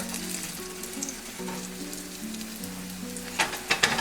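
Banana pancakes sizzle softly in a pan, a low steady frying hiss beneath a tonal hum, with a few sharp spatula clacks near the end as they are flipped.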